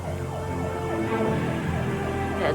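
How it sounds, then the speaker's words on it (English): Several ambulance sirens wail at once, their rising and falling tones steady and moderately loud as they draw near. "That's more than one siren."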